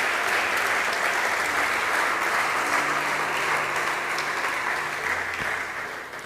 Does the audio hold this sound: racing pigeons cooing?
no